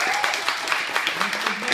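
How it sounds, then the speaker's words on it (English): Audience applause at a university comedy show, a crowd clapping steadily under a host's voice talking over it. "Can you get a round of applause for?"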